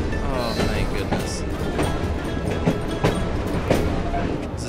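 A steam-era train running in Assassin's Creed Syndicate rumbles steadily with rhythmic clicks and clacks from the wheels and a few sharp metallic bangs, loud and continuous, with faint game voices mixed in.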